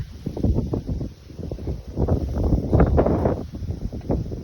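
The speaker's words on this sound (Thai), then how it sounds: "วันนี้ลมแรงมาก" Strong wind at a mountain viewpoint at Pha Hua Sing, Phu Thap Boek, buffets the microphone in a continuous rumbling roar that swells and eases in gusts, with no voices heard.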